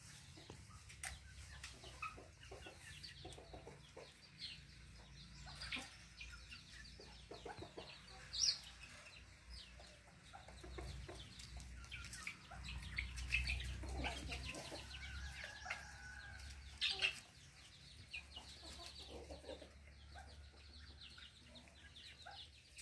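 Lady Amherst's pheasants in a breeding aviary during mating season, giving scattered faint calls and clucks over a low steady rumble, with a few sharper calls standing out and no voices.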